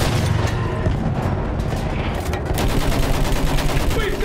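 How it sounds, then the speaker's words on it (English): Machine gun fire in a trench warfare video game, a dense, continuous rattle of loud rapid shots mixed with booms, with no pause. "Use that machine gun."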